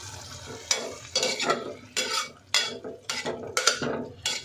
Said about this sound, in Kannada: ಈ ಗ್ರೀನ್ ಕಲರ್ ಏನಿದೆ ಸ್ವಲ್ಪ ಕಲರ್ ಚೇಂಜ್ ಆಗುತ್ತೆ, ಅಲ್ಲಿವರೆಗೂ ಇದನ್ನು ಫ್ರೈ ಮಾಡ್ಕೊಳ್ಬೇಕು